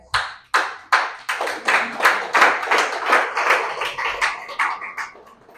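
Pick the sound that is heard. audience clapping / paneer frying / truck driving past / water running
audience clapping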